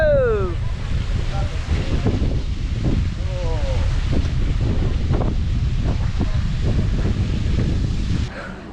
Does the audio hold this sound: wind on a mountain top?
yes